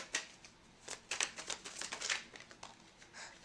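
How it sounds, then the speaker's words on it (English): Tarot cards being shuffled by hand, a quiet, close run of crisp riffling flicks and papery slaps repeating irregularly without any speech. "we've got a lot of cards, so I'm just going to shuffle again."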